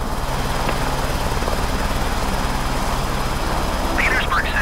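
A helicopter flies around St. Petersburg, Russia, its steady rotor and engine drone filling the cabin at a constant loud level, with a brief radio chirp near the end and no talk.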